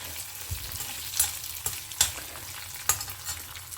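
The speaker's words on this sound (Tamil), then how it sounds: "வெந்தயம் எண்ணெயில் பொரியறச்சு" Fenugreek seeds fry in hot oil, a soft continuous sizzle close by, broken a few times by louder scraping bursts as the pan is stirred. No one speaks.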